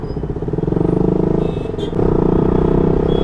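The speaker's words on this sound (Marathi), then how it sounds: "बेकार बेकार ट्रॅफिक आहे रे." Dense road traffic in India with cars, motorcycles and trucks, a steady loud rumble of engines and tyre noise with a brief horn-like tone near the middle, continuous throughout.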